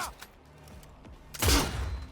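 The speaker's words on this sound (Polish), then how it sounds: "Piękny strzał w głowę." A few soft thumps, then a loud, sharp burst of gunfire landing a headshot in the video game Cyberpunk 2077, with a booming low impact and a brief ringing tail.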